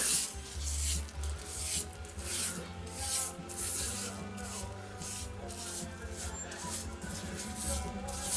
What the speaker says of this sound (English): Now I'll just use a brush there to brush some of that off to fill up the little hollow there